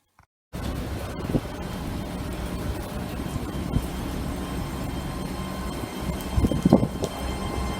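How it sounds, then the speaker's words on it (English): A Class 800 train departs Oxford station heading north toward the sidings, a continuous rumbling roll of wheels and traction with wind buffeting the microphone, starting abruptly after a short silence and swelling slightly near the end. "Let's take a look at a Class 800 departing Oxford, heading north to, well, Oxford sidings"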